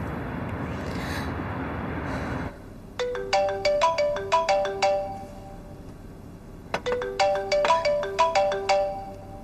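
A phone ringtone plays while a woman calls her boyfriend: a short bright melodic phrase of chiming tones, then a pause and the same phrase again, clear and close with no talking.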